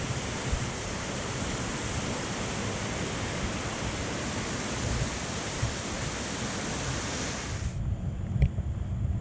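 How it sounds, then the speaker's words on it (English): A waterfall pours in a steady, loud broadband rush on a mountain trail, constant for most of the stretch before it cuts out abruptly near the end, leaving only faint ambience. "You feel the breeze coming from the waterfall?"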